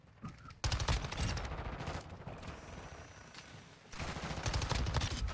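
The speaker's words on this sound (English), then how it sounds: "I had to switch over to my pistol to get him." Pistol fire in Call of Duty MW2 comes as rapid, close bursts of shots in two main volleys separated by a brief lull, loud against the game's background noise.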